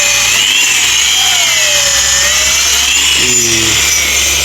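A power drill bores into wood with a loud, continuous whine whose pitch rises and dips as the bit works. It is heard alone, with no talking.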